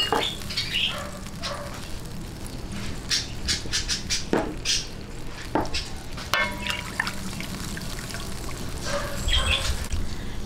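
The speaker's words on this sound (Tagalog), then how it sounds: "Lagay po natin tong ating banana ketchup." Banana ketchup poured and stirred into a pan for sweet and sour fish, wet trickling and scraping with a few sharp clanks of utensil on pan, steady sizzle underneath.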